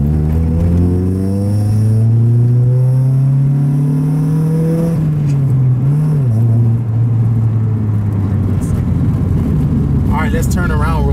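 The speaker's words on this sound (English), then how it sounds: "So we're gonna do a little pull before this speed bump right here." A $300 junkyard Honda Civic engine revs up hard, a rising drone building loudly then easing off, followed by rougher rumbling road noise and a voice speaking over it.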